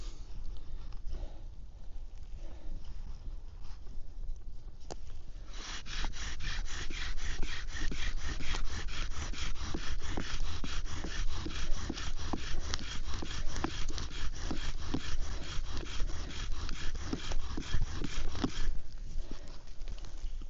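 A bow drill spindle grinds against a wooden fireboard during a fire-starting attempt, with quiet handling at first, then a loud, rhythmic back-and-forth rasping sawing for about thirteen seconds before it stops.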